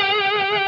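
A single sustained electric guitar lead note with effects and slight wavering vibrato, from an arrangement of Little Drummer Boy, ringing clearly and alone.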